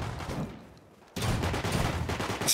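Rapid video game gunfire bursts out loud after a quiet stretch, a dense volley of shots with a sharp crack near the end.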